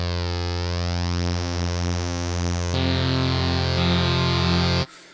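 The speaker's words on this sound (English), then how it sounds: "so we can stick on a chorus" A sustained chord from a Liven Lofi-12 synthesizer with a shimmering, swirling chorus effect, switching to a brighter chord partway through, then cutting off abruptly near the end.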